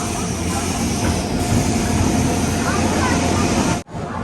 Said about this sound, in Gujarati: દીદીને ટ્રેનમાં બેસાડી દીધા છે. અત્યારે હાપા વૈષ્ણવ દેવી જાય એ ટ્રેન એમને વડોદરા પહોંચાડી દેશે